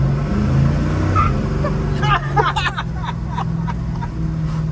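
A car accelerates hard through second gear, its engine droning steadily while its tires chirp in short bursts midway. Voices talk over the engine noise.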